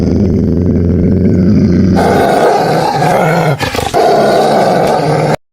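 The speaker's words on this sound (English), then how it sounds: "A low growl rumbled through the dungeon." Low, feral growling of approaching wolves echoing through a dungeon, a deep continuous rumbling snarl that swells and grows rougher partway through, loud and close.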